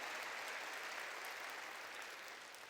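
Sustained applause from a large church congregation, a dense steady clatter of many hands clapping throughout, holding even and fading only slightly at the end.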